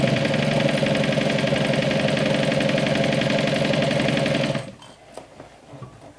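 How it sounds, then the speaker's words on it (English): A sewing machine runs a continuous, fast, buzzing stitch along a bag's lining seam, loud and close, then stops abruptly with only faint handling sounds afterward. "so I'll start sewing from this end"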